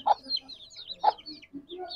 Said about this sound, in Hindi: ये जी काफ़ी ज़्यादा बड़े हो गए हमारे चूजे